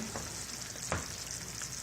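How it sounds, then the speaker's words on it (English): A pot of boiling onions simmering in strained sauce liquid gives a steady, dense bubbling hiss, with a single faint clink near the middle and no voices. "then I put the boiling onions back in"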